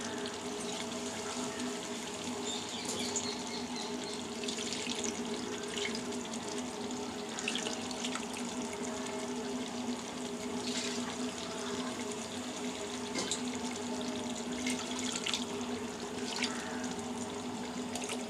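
Water pours into washed rice in a cooking pot for chicken dum biryani as a steady, continuous splashing stream. It is moderately faint and no one speaks.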